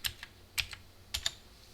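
Keys on a computer keyboard clatter in a few quick, soft, close taps with short pauses between them as a password is typed into a terminal.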